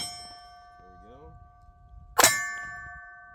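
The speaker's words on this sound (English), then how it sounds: "Now we're going to try a couple double shots here." Canik TP9DA pistol fired at steel targets: one sharp metallic clang rings out loud and close, leaving a long ringing tone with a faint voice before it.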